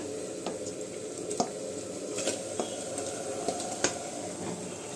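Marinated beef with ginger and garlic fries in a pot for Hyderabadi haleem, a low continuous sizzle broken by a few sharp stirring clicks and scrapes.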